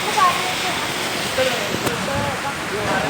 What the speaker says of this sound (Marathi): बघू शकता कसा कितका पाऊस पडायला चालू झाले.